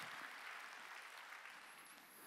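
A church congregation applauds during a Sunday worship service, a soft, steady wash of many hands clapping heard faint and distant with no talk.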